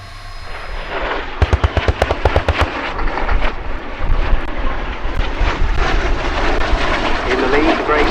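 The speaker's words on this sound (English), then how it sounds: "Mark Patrice Strikemaster Mark 82 in Omani Air Force colours leads John Corley flying a Jet Provost Mark 52 in South Arabian Air Force colours" A Strikemaster Mark 82 and a Jet Provost Mark 52 in an airfield attack display at RAF Cosford, loud jet engine roar with a burst of rapid sharp bangs like simulated gunfire, then a sustained rushing roar as they pass.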